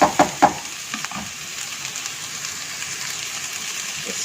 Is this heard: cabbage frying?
yes